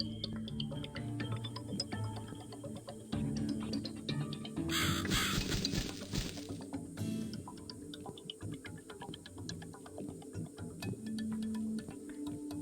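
A crow caws in the dark horror video game The Cat Lady, its harsh calls sounding among a clock-like ticking and a low, brooding ambient drone, fairly faint overall and with no talking.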